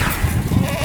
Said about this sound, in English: they're tending a growing herd of goats